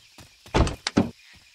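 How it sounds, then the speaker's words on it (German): Doors in the KeepUp Survival video game opening and closing: a couple of close, solid thuds and slides in quick succession, then quiet, with no talking. "Ich höre schon wieder Türen"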